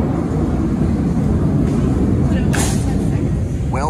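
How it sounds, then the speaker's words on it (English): A Blue Angels fighter jet flying low overhead makes a continuous loud roaring rumble that fills the whole clip, with a steady broad wash of engine noise and people talking faintly. "Well, the fighter jet had to fly over."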